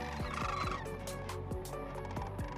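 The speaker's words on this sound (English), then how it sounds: "behind us is a Playa Lake that's full of smartweed and waterfowl" Waterfowl on a smartweed-filled playa lake during migration call continuously in a dense, noisy chorus of overlapping honks and squawks, moderately near and with no talk.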